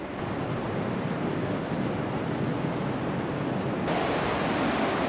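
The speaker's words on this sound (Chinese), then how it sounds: "看见海浪" Sea waves breaking at a seawall beside Qiding beach in Zhunan, Taiwan, on a sunny, breezy day: a steady, close, broadband wash of surf mixed with wind, continuous with no pauses and no voices.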